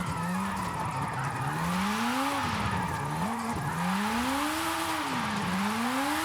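PLP 50, the tiniest car, driven in the video game Forza Horizon 5: a small high-pitched engine revs and drops in repeated rising and falling sweeps, shifting gears continuously, loud and close with no talk.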